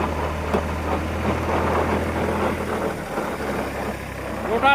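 The rotor of a second-hand CASE JX 50 T tractor turns with a steady low engine drone, heard close under someone talking throughout.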